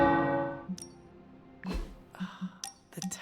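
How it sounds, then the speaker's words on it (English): Bells chime in Marvel's Midnight Suns: a few bright, metallic pings and clinks ring out at irregular intervals over a soft, fading tonal drone, each strike short with a brief shimmering decay. "power bells are ringing."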